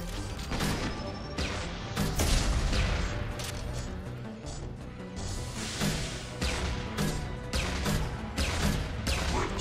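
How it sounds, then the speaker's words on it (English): Loud, dense explosive blasts and crashing impacts from a grenade launcher firing in the Mass Effect video game, one heavy bang after another over continuous game noise, with no talking. "now I will switch to the grenade launcher"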